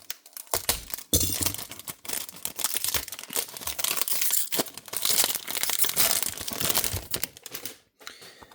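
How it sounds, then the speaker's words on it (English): Plastic wrapping torn and crinkled off the box of an Inno64 F40 LBWK Tokyo Auto Salon 2024 diecast model car, with several bursts of ripping and rustling, close and fairly loud, pausing briefly between pulls. "Let's take off the plastic first."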